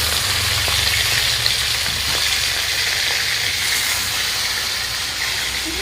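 Fish sizzling steadily in hot oil in a pan, a dense, even frying hiss that stays loud and close throughout with a few faint clicks, no voices.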